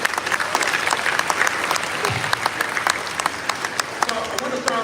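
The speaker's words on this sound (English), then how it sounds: "Let's give a round of applause to everybody." A crowd applauds at a Los Angeles facilities event presented by the LA Clippers, a sustained, dense round of clapping with sharp individual claps poking through, steady throughout with faint voices beneath.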